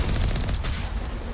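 Defense turrets firing in the Mass Effect video game, a dense rapid fusillade of shots rattling continuously and loudly throughout, with a sharper burst partway through.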